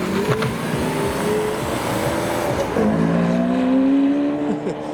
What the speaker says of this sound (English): Aventador S is next up.